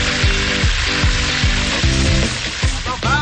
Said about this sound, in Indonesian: Langsung goreng Jas.